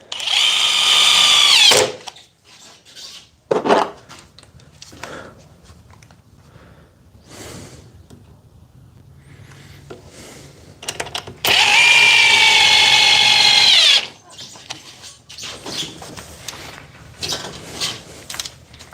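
DeWalt oscillating multi-tool cutting wood, two loud bursts of high whining buzz a few seconds each, separated by quieter handling clatter and faint background noise.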